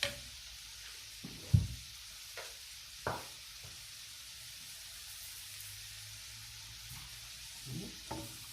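Quiet, steady sizzling of vegetables frying with salt in a pan, with occasional soft clinks and stirring knocks.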